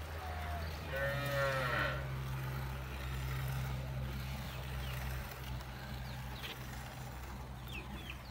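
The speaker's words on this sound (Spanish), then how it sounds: "Ahí están estas vacas, ¿verdad? Estas son de segundo parto" Dairy cows mooing at a farm in Jocoro, El Salvador, with one clear low moo near the start over steady background engine rumble and faint distant farm noise.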